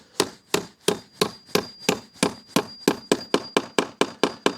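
Hammer blows drive painted nails into wooden siding boards, about fifteen sharp, evenly spaced strikes in quick succession, close and loud with a ringing metallic tone and no talking.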